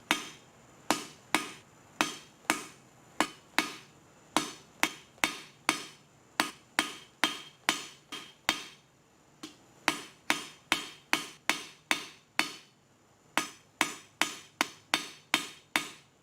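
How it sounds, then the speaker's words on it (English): A hammer strikes hot metal on an anvil while a stem is forged and lengthened: about two dozen sharp, ringing blows in quick rhythmic bursts, close and clear, with short pauses between groups and no talking. "Forging it back to lengthen the stem."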